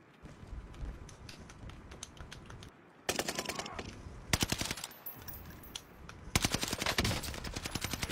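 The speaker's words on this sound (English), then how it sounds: "Getting shot from tower." Rapid automatic gunfire in the shooter game Warzone, bursts of fast, sharp cracks broken by short pauses, with the loudest volleys near the end; no one speaks.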